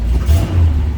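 A 1969 Chevrolet Chevelle SS with a big-block engine idling, a brief, loud, deep throaty exhaust rumble heard close by.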